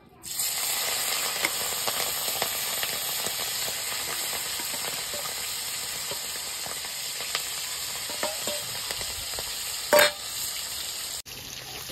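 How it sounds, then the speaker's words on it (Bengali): Prawns fry in hot oil with a steady, close sizzle and crackle, occasional utensil clicks and a brief louder burst near the end, no voices over it. "এবার আমি চিংড়ি মাছগুলো ভেজে নেব"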